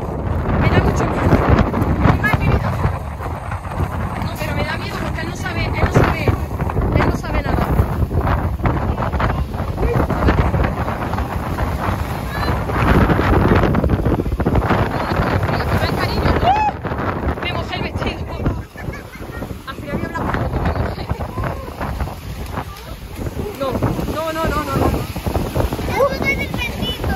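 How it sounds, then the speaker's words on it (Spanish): Strong wind buffets the microphone on a beach, a constant roaring rush with gusty surges, while people talk underneath and a voice comes through at times. "Sé que hace muchísimo aire."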